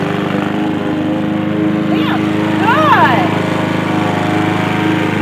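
A lawn mower runs steadily through the background while mowing grass, a continuous droning engine under the whole stretch, with people talking over it and a brief whistling chirp in the middle.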